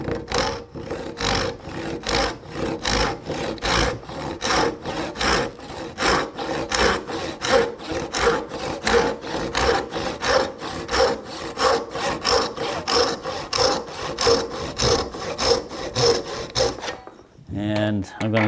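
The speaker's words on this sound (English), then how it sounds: "I'm going to go ahead and cut down along the side here at a quarter of an inch." A hand saw cuts wood for a mortise and tenon joint in a fast, even rhythm of close, rasping back-and-forth strokes that run about seventeen seconds before stopping.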